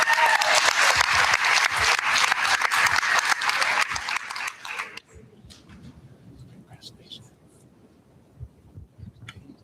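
Audience applause for a vice principal at a school district board meeting, a full round of clapping for about five seconds that fades out, followed by a quiet room with scattered small noises.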